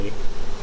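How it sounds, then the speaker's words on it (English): Honey bees buzzing densely around an open hive frame during a honey harvest, a close, steady droning hum with no talk. "there are so many bees in here, I want to be careful not to crush them."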